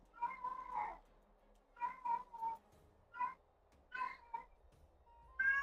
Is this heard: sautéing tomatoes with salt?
no